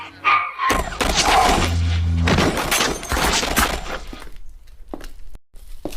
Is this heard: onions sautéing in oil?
no